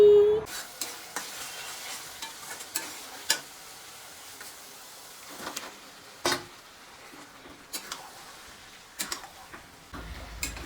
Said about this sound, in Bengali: আজকে আমি অনেক দিন পর মাংস রান্না করছি